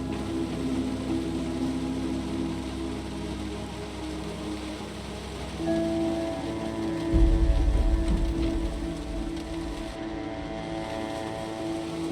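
Steady rain patters and hisses in the survival game Project Zomboid. A soft low rumble and faint tonal background music run under it, with a heavier surge partway through.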